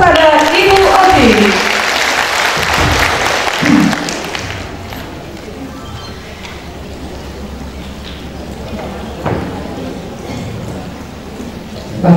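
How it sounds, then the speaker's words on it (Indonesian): Audience applause at a PKK seminar in Dumai honoring speaker Okky Asokawati: a dense, loud clatter of clapping fills the hall for about four seconds, then fades into quieter room murmur with occasional thumps. "mari kita beri aplaus kepada Ibu Oki"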